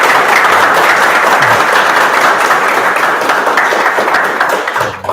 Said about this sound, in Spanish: creo que le damos las gracias a Óscar con un fuerte aplauso